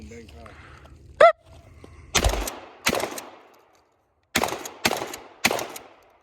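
Shotgun blasts during an FBI qualification course of fire: five sharp, loud reports spaced about a second apart with a pause in the middle, preceded by a short beep and quiet background hum.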